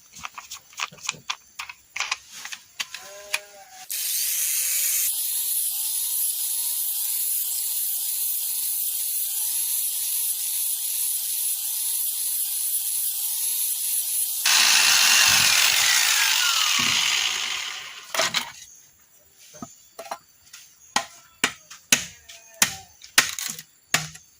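Continuous rough scraping of 400-grit sandpaper on a machete blade runs for about ten seconds, bracketed by sharp taps and knocks, close and loud.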